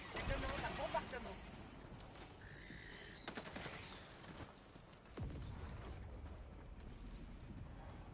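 A requested orbital bombardment thunders in the game Helldivers 2, with heavy rolling explosions and rapid gunfire-like blasts layered with mechanical noise, under players talking.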